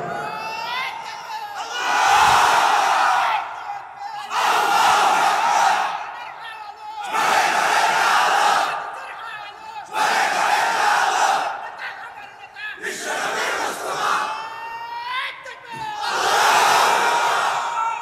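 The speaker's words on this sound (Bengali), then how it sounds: "গলা ফাটাই তাকবীর দাও ওমরের মতো জোরে।" A large crowd at an outdoor sermon roars the takbir in repeated loud bursts, about six rhythmic chants of Allahu Akbar separated by brief pauses.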